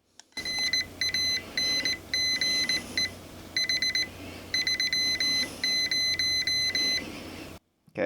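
Morse code beeps from a CW add-on for a Xiegu G90 radio: clear, steady electronic tones keyed in short and long bursts with brief gaps, fairly loud and alone over a faint background hum.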